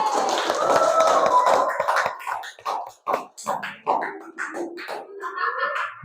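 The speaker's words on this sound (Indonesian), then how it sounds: "Tepuk tangan untuk Batasa sama Vicky." Classroom students clap their hands together in a burst of applause, followed by scattered taps, shuffling and faint chatter as the clapping dies away.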